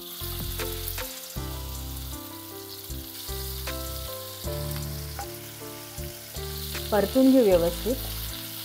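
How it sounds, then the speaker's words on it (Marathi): Green pea paste hits hot oil in a pan and fries with a steady sizzle, stirred now and then with scraping clinks, while someone talks over it. "आता ह्याच तेलामध्ये ऍड करूया मगाशी केलेली मटारची पेस्ट।"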